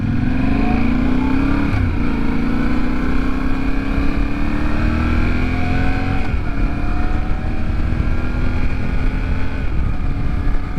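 A 2025 Yamaha Tenere 700 motorcycle engine runs steadily and loud throughout while riding, with rising and falling engine tones as the bike accelerates and shifts.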